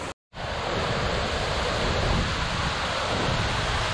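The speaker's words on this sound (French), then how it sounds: "Magnifique avec cette belle cascade." A waterfall on a river in Puy-de-Dôme roars as a dense, steady rush of water at close range, starting after a brief silent gap and continuing unbroken with no voices.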